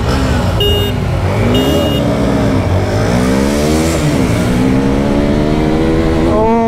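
Three 160 cc motorcycles, a TVS Apache 160, Hero Xtreme 160 and Bajaj Pulsar NS160, launch in a drag race, engines revving loudly close by and climbing in pitch through rapid gear changes.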